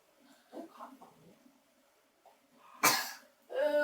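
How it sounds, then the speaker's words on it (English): A young child coughs once, a brief close burst standing out amid soft toddler babble and quiet chatter, followed by more voices. "cough on me"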